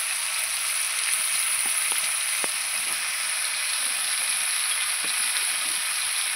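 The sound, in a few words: stirring chicken with turmeric and chili powder in a frying pan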